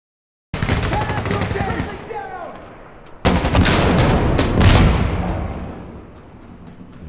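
Gunfire in the video game Insurgency Sandstorm, with two long bursts of rapid automatic shots, each followed by a rumbling echo, loud and close, the second burst heavier, and faint voices in the mix.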